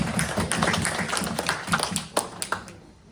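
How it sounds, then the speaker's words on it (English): Audience clapping at a church gathering, a dense burst of many hands that grows uneven and thins out into a few scattered claps near the end. "Clap it up."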